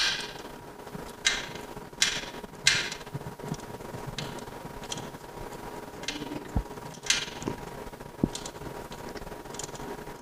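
A wrench tightens a bolt while a battery cradle is mounted on a General Wings build, giving soft repeated ratcheting clicks and light metallic taps at a steady, close but quiet level.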